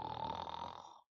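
A voice imitates a hedgehog snoring in a storybook reading, a single drawn-out raspy snore lasting about a second, close and fairly quiet, then cutting off into silence.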